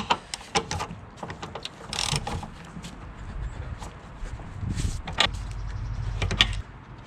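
Hand ratchet clicking in short bursts while checking strut bolts on top of a 1997-2005 Lexus GS front suspension, with quick mechanical ticks repeating irregularly at close range and no talk.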